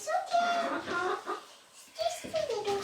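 Chickens in a backyard homestead coop clucking close by, a few short calls at the start and again near the end with a brief lull in between.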